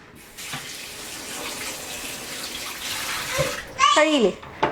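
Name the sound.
running water washing cleaned crab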